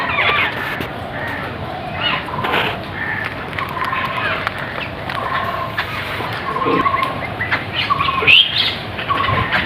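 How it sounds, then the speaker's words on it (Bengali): Birds call on a village morning, a mix of chirps and fowl-like clucks scattered over steady outdoor background noise, with some faint voices nearby. "সকালে উঠে যে পাখির ডাক কত ভালো লাগে।"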